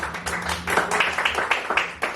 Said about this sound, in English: Please give it up for Steve and Pryce.